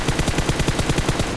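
Rapid automatic gunfire in a shooter video game, a steady string of about a dozen loud, evenly spaced shots with a short echo between bursts.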